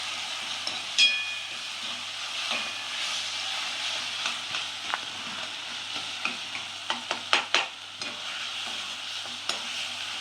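Tomatoes mashed and sautéed in a pan for an egg masala, a steady sizzle with a spoon pressing and scraping in clustered taps and clicks, close and fairly soft, no voices.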